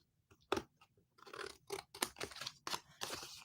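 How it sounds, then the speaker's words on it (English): Scissors snipping and sliding up the side of card stock for handmade cards, a series of close, crisp cuts and scrapes in irregular bursts, with no talk. "run the scissors up the side"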